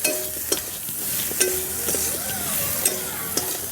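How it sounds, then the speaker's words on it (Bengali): Fried koi fish stirred with spice paste and chilli powder in a hot pan, a steady sizzle broken by sharp scrapes and clacks of a spatula against the metal at irregular intervals, close and alone. "মশলা আর মাছ ভালো করে একটু কষে নেব।"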